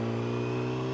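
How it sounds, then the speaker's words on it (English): A truck's engine hums at a steady idle, a close, continuous low drone with no clear acceleration. "Finally get my truck going the right direction."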